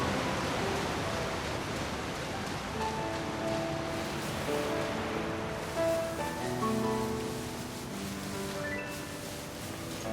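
A waterfall in the video game Pokemon Violet rushes as steady broadband noise, a constant washing roar with faint tonal game music woven underneath, no speech.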